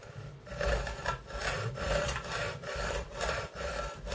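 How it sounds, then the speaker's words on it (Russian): A hand saw cuts off excess aluminium from a homemade crossbow part, working in steady back-and-forth strokes, about eight loud, close rasping passes in a regular rhythm. "При пилении алюминия пользуйтесь всегда новыми острыми полотнами, желательно с крупным зубом"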